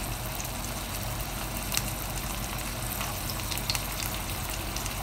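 Chicken frying with ginger garlic paste, a faint, even bubbling sizzle with a low steady rumble beneath and a few small pops, no voices.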